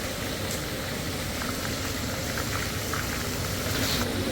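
Snakehead fish (varal) frying in a toddy shop kitchen, a steady broad sizzle and hiss of hot oil that holds at an even level throughout, with no voices over it.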